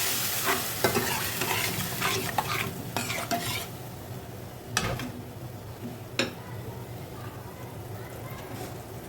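Masala spices cook in a pan for a big fish dish, frying with a steady sizzle while a utensil stirs and scrapes, giving a few sharp clacks against the pan.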